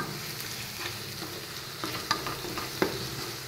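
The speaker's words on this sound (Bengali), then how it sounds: "এবার নুনটাকে ভালো করে একটু পেঁয়াজের কালার টিউটোরিয়ালের মতো একটু কালার আসবে সেই নিয়ে একটু পেঁয়াজটা ভাজছে।" Onions fry in a pan for aloo dum, giving a steady sizzle with scattered stirring scrapes and clicks from the utensil, close and alone.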